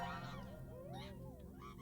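Goose honking in Astro's Playroom video game, a run of wavering nasal honks over steady game background sound, fairly close and loud for almost two seconds.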